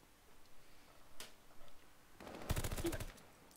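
Short burst of rapid gunfire in a Call of Duty esports match, a faint shot near the start and then a louder stuttering volley toward the end over low game ambience.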